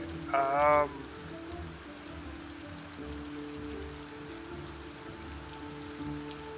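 Steady rain patters through a session of the video game Thea 2, a soft continuous wash under low game ambience with a brief chime near the start.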